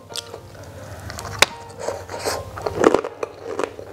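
Close crunchy bites and chewing of emping crackers eaten with rice, sharp cracks followed by softer wet mastication over a few seconds.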